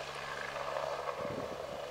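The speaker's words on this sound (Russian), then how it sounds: "Красивые вертолеты." Helicopters at a heliport run as air taxis, giving a steady distant rotor and engine drone that holds evenly throughout with a low rumble underneath.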